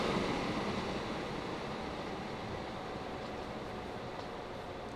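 Trains rolling through a station in the Train Fever game, a steady broadband rumble and hiss of passing rail cars, moderately loud and gradually easing, with no talk.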